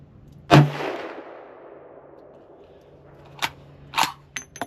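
A Ruger American Ranch Gen 2 rifle in 350 Legend fitted with a muzzle brake fires one sharp, loud shot with a decaying blast. After a lull, a few lighter metallic clicks and clanks follow.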